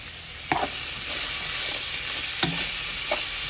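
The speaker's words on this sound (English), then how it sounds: "Give that a little stir right there." Carrots and cabbage for pancit being stirred in a hot frying pan, a steady sizzle broken by a few short scraping stir strokes, close and clear.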